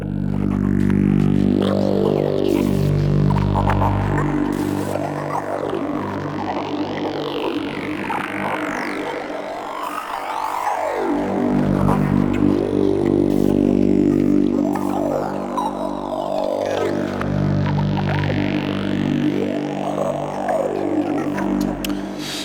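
Evolving synth pad from the Arturia Pigments 3 preset Organic Origins, a dense sustained drone with swirling, sweeping textures and slowly shifting harmonics, loud and continuous for over twenty seconds with no talk.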